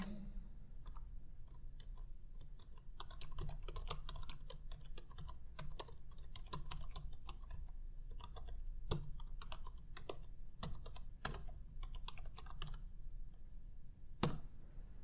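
A short line of text typed on a computer keyboard into a word processor, a steady run of close, crisp key clicks with a few louder strokes, no voices.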